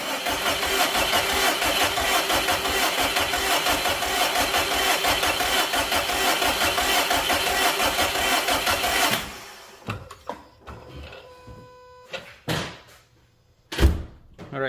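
A freshly rebuilt Subaru Impreza WRX/STI engine cranks loudly and steadily for several seconds to build fuel pressure, then stops, followed by scattered clunks and thumps nearby.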